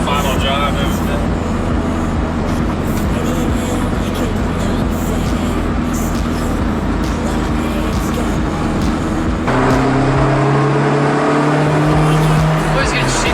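Honda Integra Type R pulling hard from first to third gear on a short final drive, its engine note rising steadily, dropping at a shift, then climbing again, loud and close with constant road and wind noise.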